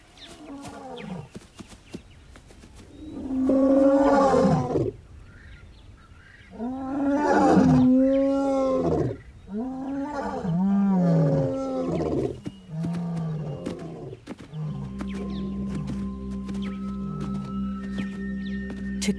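Lions roaring at night in the African wild, a series of deep, drawn-out roars in several loud groups, close and clear, fading into lower grunting toward the end.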